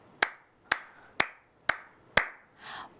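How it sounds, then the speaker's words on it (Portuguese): Five sharp, evenly spaced hand claps ring out close and distinct about half a second apart, each with a short decay, followed by a softer, muffled rustle. "um som de você aplaudindo a uma apresentação"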